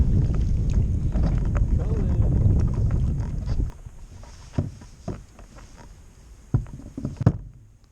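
Gusty wind buffets the microphone during kayak fishing on Caddo Lake, a loud broadband roar for the first half that suddenly drops away, leaving quieter water and scattered knocks from the boat.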